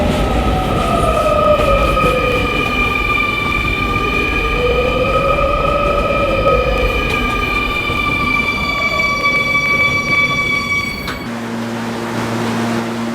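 An R220 subway car on the 11 local line, bound for Kennedy Main Street, rumbles along the track with long whining tones that rise and fall. Near the end the sound shifts abruptly and settles into a lower steady drone.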